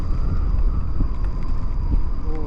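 Outdoor wind buffeting the microphone, a loud continuous low rumble with gusty swells throughout and no speech.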